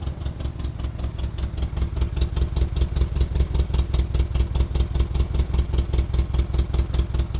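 Jeep Comanche race truck engine idling after sitting all winter, a steady, close, rhythmic lumpy idle with regular pulses and some mechanical clatter, running alone without talk.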